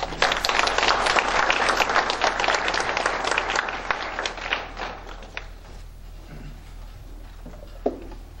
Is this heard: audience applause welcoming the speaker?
yes